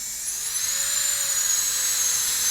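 A Nakanishi Emax EVOlution micro-grinder spins at high RPM with a thin, steady high-pitched whine that rises slightly as it speeds up, close and loud with no talk.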